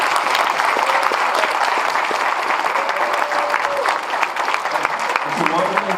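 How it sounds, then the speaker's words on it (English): Audience applause at a daytime Democratic congressional district candidate forum, steady dense clapping filling the room for several seconds, with a few voices and murmurs mixed in. "Please give them and yourselves a round of applause."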